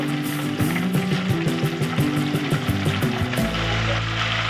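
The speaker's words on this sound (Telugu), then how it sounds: "ఇప్పుడు ఇందులో పోపు గింజలు వేస్తున్నాము" Mustard and other tempering seeds crackle and sizzle in hot oil in a pan at the start of a stuffed brinjal curry, a steady close frying hiss with a low hum underneath and no talking.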